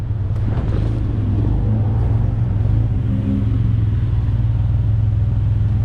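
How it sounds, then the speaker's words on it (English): A tuk-tuk engine in Bangkok rumbles loudly and steadily up close, a constant low idling drone with slight revving swells and no talking over it. "I have commandeered ourselves a tuk-tuk, ready for our trip to MBK."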